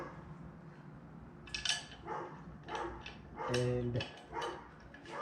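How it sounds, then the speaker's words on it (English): A neighbor's dog barks off at a distance in short, uneven bursts, moderately loud against a steady background, while someone speaks intermittently nearby. "It's my neighbor's barking dog."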